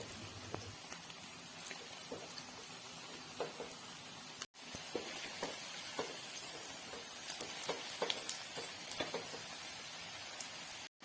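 Crispy cabbage vada, made from leftover cabbage stir-fry, deep-fries in oil with a steady close sizzle full of fine crackles and pops that carries on with only brief breaks.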